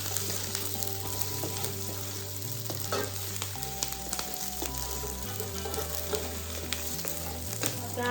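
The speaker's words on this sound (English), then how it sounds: "I love toasting sesame seed." Sesame seeds toast in a hot pan with a continuous crackling sizzle and occasional stirring scrapes, steady and close with no talking.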